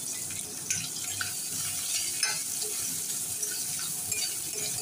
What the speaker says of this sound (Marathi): आता इथे कांदा फ्राय होत आलेला आहे।